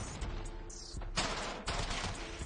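AK rifle gunfire in a video game, loud bursts of rapid automatic shots broken by short pauses.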